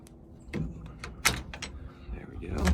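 Latches and hinged doors on a wooden chicken coop clack and knock, a few sharp close knocks and rattles spread over a few seconds, with a final thud at the end.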